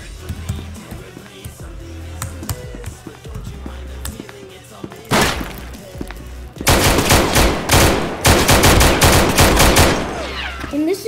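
Random gunfire in the video game SCP Anomaly Breach: a quiet ambient stretch gives way to a short burst of shots, then loud, rapid automatic volleys crackle close by and continue almost unbroken to the end.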